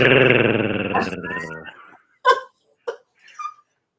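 A voices a long, rough, throaty growl in imitation of an animal, close and loud, fading out into a few short grunts and breathy bursts.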